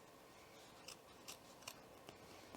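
Scissors snip through fabric while trimming around welt pockets in garment sewing, four or five short crisp cuts spaced out over a steady low background hiss, close and fairly quiet.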